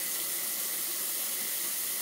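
Steady broadband rush of water draining from a sink after bathing a dog, constant and fairly close, with no voices.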